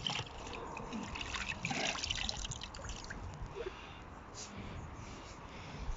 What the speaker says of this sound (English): you have to keep dampening or washing your sponge